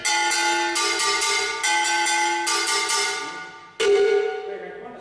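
A bright metallic cowbell of the type used in Cuban son is struck in a quick repeating rhythm, ringing strongly, then a final louder, more open hit rings out alone.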